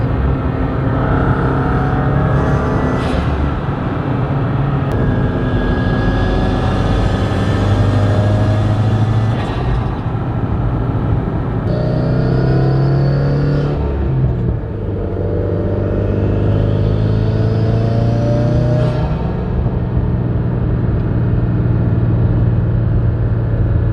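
A 2015-or-newer Subaru WRX with a GrimmSpeed turbo inlet revs repeatedly, its engine and intake note rising and falling in loud, close sweeps with no talking.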